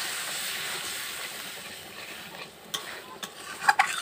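Spice paste for a tilapia curry hisses and bubbles steadily in hot oil after water is poured in, with the sizzle easing over time and a few sharp clinks near the end.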